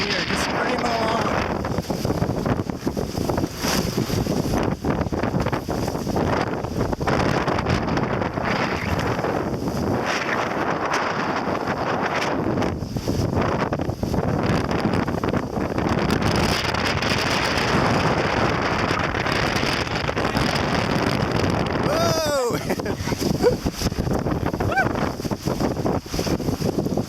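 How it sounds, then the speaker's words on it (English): Strong wind roars steadily over the microphone aboard a 570 sailboat on English Bay on a windy day, with constant buffeting and faint water noise underneath. "Windy day at Jericho."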